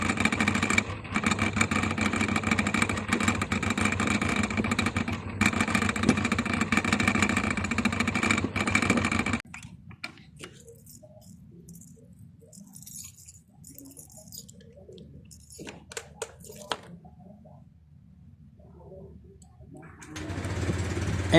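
A Honda Click V3 scooter running with its top box rattling on loose screws, a dense buzzing vibration that drops to a quieter idle rattle midway before swelling again.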